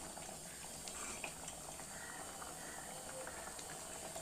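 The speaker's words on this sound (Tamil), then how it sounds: "ஸோ நல்லா கொதிச்சிட்ருக்கு." A fenugreek leaves dal kuzhambu boils steadily in a pot, a continuous close bubbling and popping texture with no voices.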